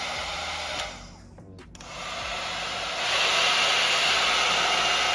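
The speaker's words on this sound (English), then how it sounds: "It's a 4-in-1 hair dryer brush used to style and dry your hair at the same time." A MiroPure 4-in-1 hair dryer brush blows with a steady airy roar, dropping briefly to near silence around a second in, then resuming and stepping up louder, likely a speed or heat change, with no talking.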